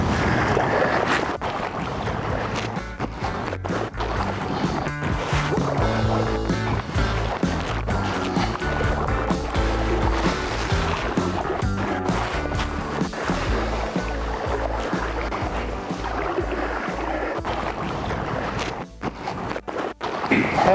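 Vintage Sevylor Eskimo 1 inflatable kayak being paddled, with steady splashing and water sloshing under continuous wind noise on the microphone.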